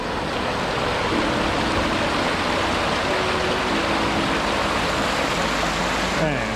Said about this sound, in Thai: ซึ่งเป็น น้ำไหลผ่านเนี่ย สะพานนะครับ ซึ่งมีลักษณะคล้ายน้ำตกมากเลยครับ